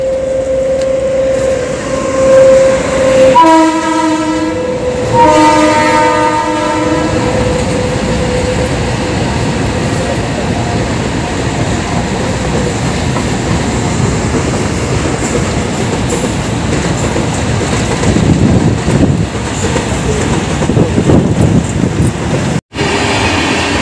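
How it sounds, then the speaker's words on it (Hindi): A train pulls out of Narela railway station in Delhi, its horn sounding loud and close in a few harmonic blasts before steady rumbling wheel and carriage noise carries on to the end. "अभी यहाँ से ट्रेन जाएगी और हम आपको ट्रेन भी दिखाएंगे।"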